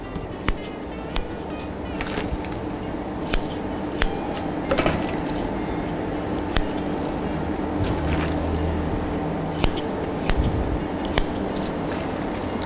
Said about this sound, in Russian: Немного порежем, чтобы сильно длинная не была, чтобы удобно было есть.